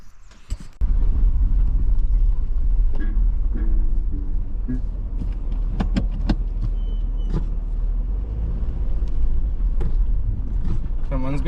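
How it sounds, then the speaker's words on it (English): Suzuki car cruising on a snowy winter road near Mavora Lakes, a steady loud low engine and road rumble from inside the cabin with a few creaks and knocks, while people talk over it. "the Suzuki is just going fantastic. It just cruises, it's so nice to drive."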